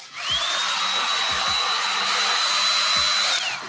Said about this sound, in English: Right here, we have the Andis blow dryer.